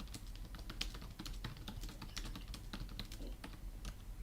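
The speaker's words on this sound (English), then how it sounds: "You're typing." Computer keyboard typing, a steady run of quick, dense key clicks throughout, close and fairly quiet against a low background hum, with no talking.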